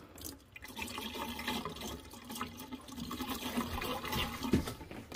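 Water is poured into a P trap of an RV's plumbing, draining toward the gray tank with a steady, close splashing gurgle that runs throughout, with no one talking.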